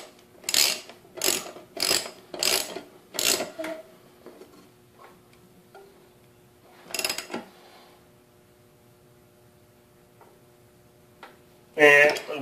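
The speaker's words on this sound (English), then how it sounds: "take our wrench, and now we tighten it up." A ratchet wrench tightens the blade bolt on a Craftsman lawn mower, giving several quick, close bursts of sharp ratcheting clicks in an uneven rhythm, with a short pause and a final louder burst.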